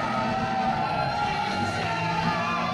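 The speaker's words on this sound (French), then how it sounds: "Et la foule qui manifeste à Jonathan Grimm sa désapprobation." A wrestling crowd booing Jonathan Grimm at a Victory Ring event, a dense, steady roar of many voices filling the hall at constant loudness with no pauses.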